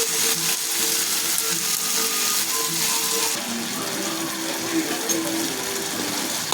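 Tomatoes and shallots sautéing in a pan for thokku, a dense, loud, continuous sizzle close by with faint stirring underneath, no voices.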